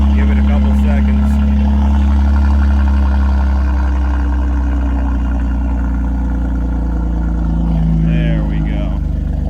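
A BMW X3 M's engine runs loudly close by, a deep, steady, tractor-like rumble that holds throughout while someone talks briefly over it.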